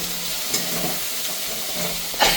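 Manchurian being stirred with chili sauce in a hot pan, a continuous close sizzle with soft scraping and a louder clatter near the end.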